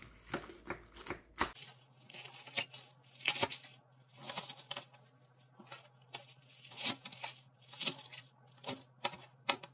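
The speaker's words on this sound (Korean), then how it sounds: "그래서 아주 이렇게 대궁이가 굵은 부분만 이렇게 한 번씩 잘라줍니다." A knife cuts thick green garlic stalks into short pieces, giving sharp, crisp single chops at an uneven pace, close and fairly quiet, with a steady low hum in the background.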